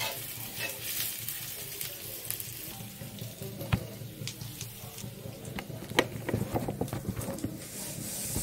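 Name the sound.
ginger garlic paste frying in a kadai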